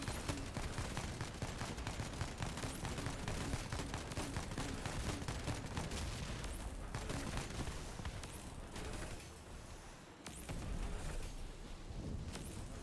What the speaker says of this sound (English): Because it machine guns out freaking grenades